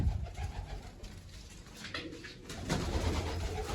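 Pigeons in a loft coo in low, soft, rolling calls, one over another, close by and steady throughout with no voices.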